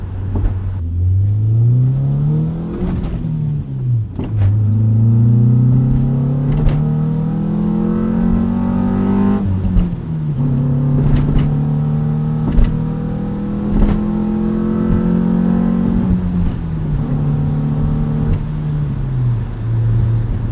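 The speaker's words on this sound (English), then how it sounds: "It's the ideal B-Series 4-cylinder sound." A Honda B-Series four-cylinder engine in a 2001 manual Honda CR-V revs up and down repeatedly, its pitch rising and falling through gears with a full, throaty intake roar, loud and close.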